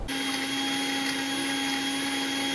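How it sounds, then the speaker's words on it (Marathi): A mixer grinder grinds roasted onion and coconut masala for a cluster bean and potato curry, starting abruptly and then whirring loudly and steadily with a constant motor whine throughout. "थंड झाल्यावर थोडं पाणी घालून मिक्सरमध्ये बारीक वाटून घेऊ"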